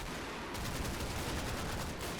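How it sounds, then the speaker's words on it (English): Dense gunfire in a firefight from Combat Mission: Battle for Normandy, with rapid overlapping rifle and machine-gun shots rattling continuously through a noisy, steady battle din, without any talking. "Oh, that is some firefight."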